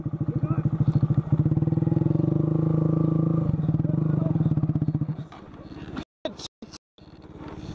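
A stock Honda Grom motorcycle ridden off-road under power, its engine drone steady and close for several seconds before cutting into choppy dropouts near the end.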